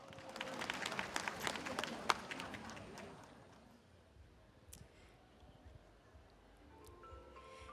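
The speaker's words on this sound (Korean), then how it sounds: "자 그러면 여러분들 박수로 함께 만나보도록 하겠습니다" Pageant audience clapping in a brief burst of scattered claps over the first few seconds, then fading away into quiet room tone with only a few stray clicks; faint overall.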